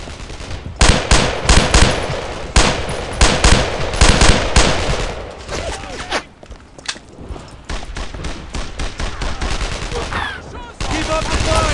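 Loud, close machine gun bursts and rapid gunfire in a World War II battle at St. Sauveur, France, 1944, in Brothers in Arms, rattling almost without pause with brief gaps and faint shouting underneath.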